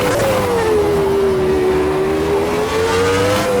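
A Ferrari V12 race car engine in the Automobilista 2 racing sim holds a loud, steady high-pitched wail, its pitch dipping slightly then climbing again as it runs alone without talk.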